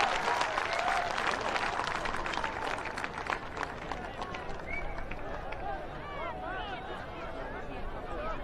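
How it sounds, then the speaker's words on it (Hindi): Large outdoor crowd at a political rally applauding and cheering for the Prime Minister, a dense steady roar of claps and voices filling the whole stretch. "तालियों की गड़गड़ाहट से स्वागत करें माननीय प्रधानमंत्री जी का।"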